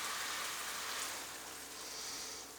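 Water sprinkled into turmeric roasting in a pan gives a steady broadband hiss and crackle, like sizzling rain, close and fairly loud throughout with no voices.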